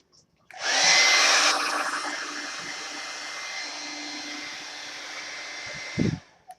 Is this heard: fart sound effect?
no